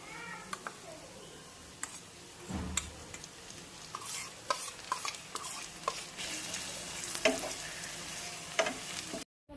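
Ginger, cumin, chili and garlic paste sizzling and being stirred in a pan for mutton, a steady fry with scraping spoon strokes and occasional clinks, close and fairly loud.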